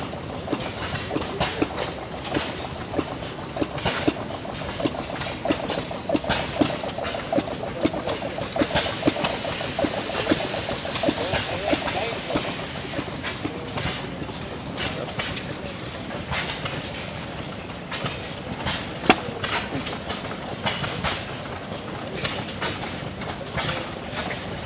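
An old Maytag engine runs at a classic iron tractor show in Evansville, Indiana, with a steady stream of rapid, rattling firing pops. It is moderately loud and continuous, with mechanical clatter and background noise around it.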